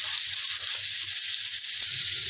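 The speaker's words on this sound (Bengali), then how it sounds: "এবার গ্যাসের ফ্লেমটা আমরা একটু লো রাখবো আর ভালো করে আমরা সবগুলোকে ভাজা ভাজা করব।" Chopped onions fry in a pan over a low gas flame, giving a soft, steady hiss that runs unbroken throughout, with no one speaking.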